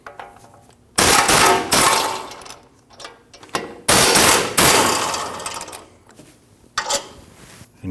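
Impact wrench removing the 24mm caliper bracket bolts on a Nissan NV2500 front brake: loud rattling bursts of about a second each, separated by quiet pauses, with a short final burst near the end.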